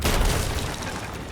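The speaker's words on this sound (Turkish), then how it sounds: "Yükle topu. Vur." Ship cannon booming in the pirate game Sea of Thieves, a loud, heavy blast with a rumbling tail that fades over about a second, no talk.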